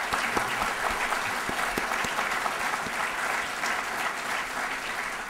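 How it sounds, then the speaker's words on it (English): An audience at an entrepreneur awards ceremony applauds the judges with steady, dense clapping that fills the room evenly from start to finish, with no talk over it. "Give a round of applause for them."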